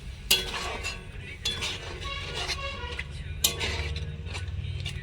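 Spice paste cooked down with a splash of the ground-masala water over a medium flame, for a Bengali chicken-scraps and stomach curry; scraping and stirring in the pan comes in a few sharp strokes over a steady low background, with no talking.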